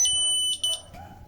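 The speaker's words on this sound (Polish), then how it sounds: "W tym momencie załącza się sygnał akustyczny, poszedł już sygnał do syreny alarmowej." A piercing electronic alarm tone sounds from an AED defibrillator cabinet, steady then briefly pulsing before cutting out, close and shrill.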